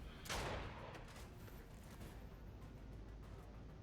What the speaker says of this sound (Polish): Już jakieś strzały nawet są.